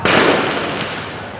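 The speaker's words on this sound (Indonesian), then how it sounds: "Oh, petasan lagi-lagi dan ada api lagi di depan," Firecrackers burst loudly at close range during a tense night protest in a Jakarta street, a sharp blast followed by dense crackling that fades over about a second and a half.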